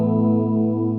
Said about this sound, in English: Yeah, let's start with the Space Echo.